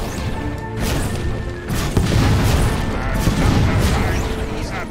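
Heavy booms and crashing impacts rumble during cannon fire in a battle in Fable III, loud dense blasts layered over one another with battle noise and someone talking in German.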